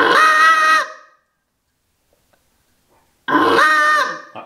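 A Greylag Hammer goose call is blown in two loud, honking blasts, each with a rising and bending pitch, separated by about two seconds of silence.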